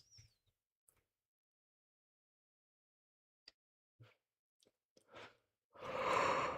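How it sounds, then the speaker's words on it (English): A single human yawn during a live football watch-along comes as a loud, drawn-out breathy swell near the end, after a long quiet stretch with a few faint clicks and breaths. "There's the first yawn of the watch-along."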